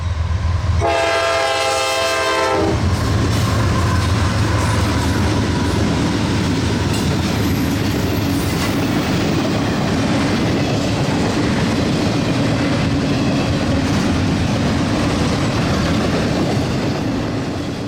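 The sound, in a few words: freight train passing with horn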